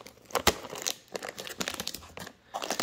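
Packaging of an EVGA FTW Ultra RTX 3080 LHR graphics card box being handled and opened, close-up crinkling and crumpling of plastic and cardboard in irregular bursts with brief pauses.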